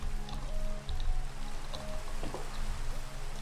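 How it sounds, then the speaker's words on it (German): Steady rain falling in the video game Minecraft, a soft continuous patter and hiss with faint scattered drops, moderately loud, with no talk. "jetzt regnet's"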